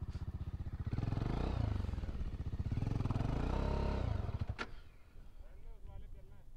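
An off-road motorcycle engine revs hard while its tyre skids on grass, failing to climb a slope: a loud, pulsing, throbbing roar that surges, then drops off, with a voice following.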